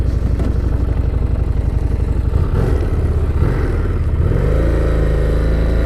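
A Harley-Davidson Street Rod 750 motorcycle roars steadily as it is ridden, its engine loud and close throughout, with a shift in pitch partway through as the rider accelerates and then settles into a higher, even drone.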